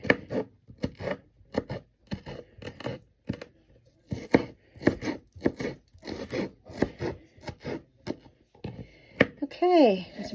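A knife chops yellow onion on a cutting board in a kitchen, making irregular sharp taps, some in quick bursts and others spaced apart, between stretches of a person talking close by.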